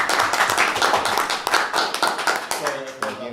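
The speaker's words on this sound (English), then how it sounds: "we did not clap for and- JoJo" An audience claps for JoJo, the discussion leader, in a dense, continuous patter of many hands that runs the whole stretch while voices talk over it.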